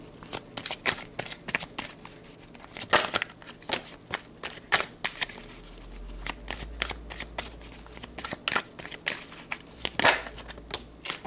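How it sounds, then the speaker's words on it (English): Tarot cards shuffled and drawn for a reading, a series of crisp, close riffling and flicking bursts with short pauses between, then soft slides and taps as cards are laid down, no talking. "So let's pull a couple of cards to see the outcome of all this energy."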